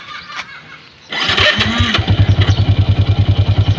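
A Yamaha Exciter 150 motorcycle starts after a brief crank, then settles into a close, loud idle with an even, rapid thumping pulse that continues alone.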